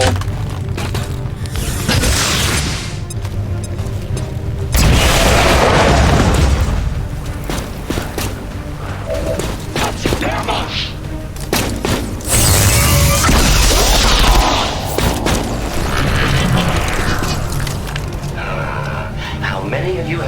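Grenade blasts in the video game XCOM 2: War of the Chosen: heavy booming explosions roll out in two loud bursts, with crackling debris and rumbling between them and voices talking throughout.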